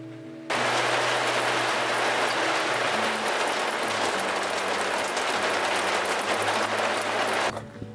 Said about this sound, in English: Now it's probably raining, I really should go inside.